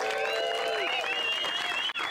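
A crowd applauds surfer Taryn King on taking fourth place at a longboard championship prize-giving, the clapping loud and steady and mixed with cheering voices and a whistle.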